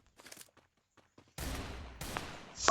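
Bursts of gunfire in the Free Fire mobile battle royale game, two sharp volleys of shots a moment apart after a few faint footsteps, loud and close.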